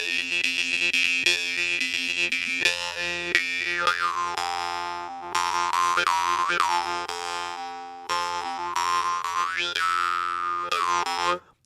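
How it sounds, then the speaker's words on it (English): A Norwegian jaw harp with a wedge-fixed trigger twangs loudly and close, its buzzing drone sliding in pitch through rhythmic, wah-like plucked phrases with short gaps between them. "The Norwegian mud harp has a wedge fixed trigger. Sounds like SpongeBob music"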